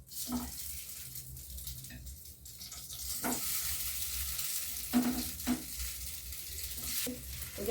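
Food sizzles steadily in a hot pan for a quick tiffin snack, a continuous hiss with a few brief clinks of stirring breaking through.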